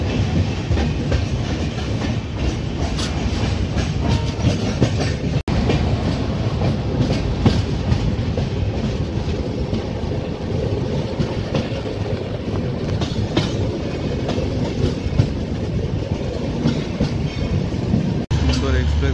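An Indian express train runs steadily on rails, heard from on board, with a loud continuous rumble and clickety-clack of wheels over track joints; a voice speaks briefly under the noise.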